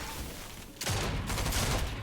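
A burst of gunfire in the video game Fortnite erupts suddenly after a quiet moment, a loud sustained crackle of shots filling the rest of the short stretch.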